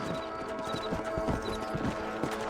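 Horse hooves pound in a steady, rapid clip-clop gallop in the Red Dead Redemption video game, continuous and fairly close throughout.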